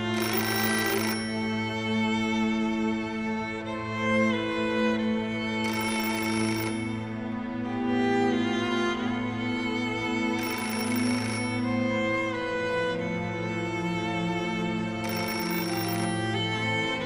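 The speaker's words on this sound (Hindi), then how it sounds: "कोई तो फोन उठाए, खुदा के लिए कोई तो फोन उठाए।" A telephone bell rings in repeated bursts about every five seconds, with nobody answering, over steady background music in a domestic drama scene.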